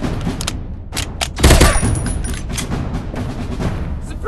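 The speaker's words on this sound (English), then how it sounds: "I'm shooting these fools up!" Rapid gunfire from the mobile first-person shooter Critical Gun Strike 2020, a dense run of sharp shots with a louder burst near the middle, steady and close throughout.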